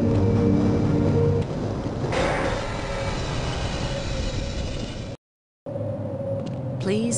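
The Black Mesa tram in Half-Life rides along its rail, giving a loud continuous rumble and rattling drone with some tonal whine. A brief gap of silence interrupts it before it resumes, and a voice speaks over part of it.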